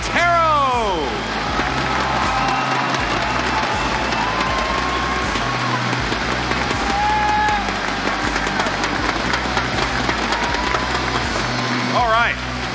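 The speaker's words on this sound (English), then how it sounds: "Let's give a round of applause for our KiXSTARs and our captains, Kix and Interro." A large arena crowd at the Raleigh Major 2019 esports showmatch in North Carolina applauds and cheers in a dense, sustained roar, with a voice over the top at the start and end.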